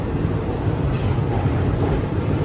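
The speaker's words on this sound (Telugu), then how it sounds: "మొత్తానికి మన ట్రైన్ మహబూబ్ నగర్ డిపార్ట్ అయిపోయిందండి." Aboard the Kacheguda–Mysuru Superfast Express just after leaving Mahbubnagar, a constant heavy rolling roar of the moving train carries on evenly throughout, loud and close, with no voices.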